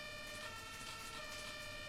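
An ambulance siren wails faintly behind a bus in the OMSI 2 bus-driving simulator game, a steady, distant electronic tone held under a low engine hum.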